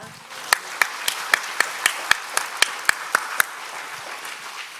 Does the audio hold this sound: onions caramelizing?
no